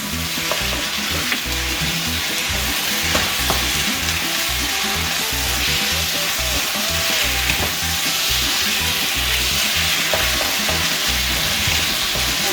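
Beef fries in a pan with a loud, dense, continuous sizzle and crackle, accompanied by occasional stirring scrapes, with no voices over it.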